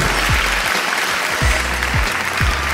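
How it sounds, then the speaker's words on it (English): Steady applause fills a room as someone enters, a dense, continuous clapping with low thumps recurring every half second beneath it. "Everyone claps every time I enter a room."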